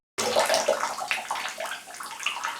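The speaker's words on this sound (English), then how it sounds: "there is definitely some fizzle, so I'll let you hear that" Steady fizzing and soft bubbling of a vegan bath bomb dissolving in bathwater, close and continuous, with gentle crackly hiss throughout and no voices.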